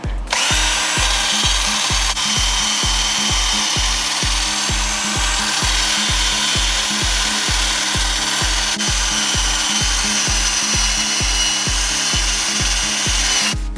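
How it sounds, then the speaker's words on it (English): A power drill spins a roll-lock pad against a car wheel hub during a brake pad and rotor change, giving a loud, steady, gritty whir and scrubbing rasp that runs unbroken and close for the whole stretch, with no voices. "get your drill with your roll-lock pad and anvil and clean the hub"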